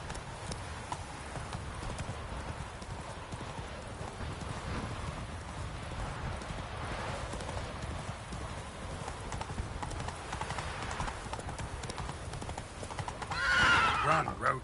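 Roach the horse gallops in The Witcher 3 with steady, rapid clip-clop hoofbeats throughout, and a whinny rises near the end. A voice is briefly heard over the hooves.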